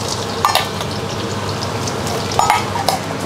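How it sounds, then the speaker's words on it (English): Hoisin sauce ingredients sizzle and fry together in hot oil in a wok, a steady close crackle with a few sharper bursts of stirring and spatula scrapes, no talking. "we fry it together until you can smell aroma from here"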